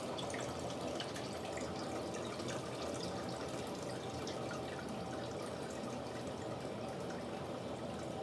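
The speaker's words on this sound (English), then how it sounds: "we're about to spill over into the last chamber here. Spilling over." Water spilling over into the final chamber of a newly built aquarium sump, a steady continuous trickling and pouring that runs without pause and sits close by.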